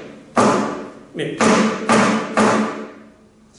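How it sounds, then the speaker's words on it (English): Flamenco golpe taps struck with the index finger on a guitar top beside the sixth string: four firm, resonant thumps in close succession, each ringing briefly, with a short spoken word in between. "is hitting with the index the top"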